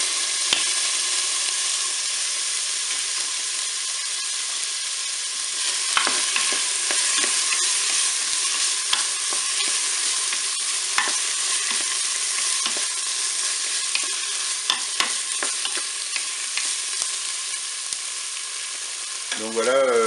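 Carrots sizzling and frying in a Cookeo multicooker, a steady close hiss with scattered crackles and pops and occasional stirring, alone without talk.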